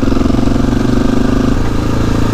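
A supermoto motorcycle engine runs loud and close, a gritty pulsing drone that holds steady and then drops slightly in pitch as the throttle eases, with no talk over it.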